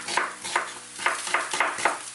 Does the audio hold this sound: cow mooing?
no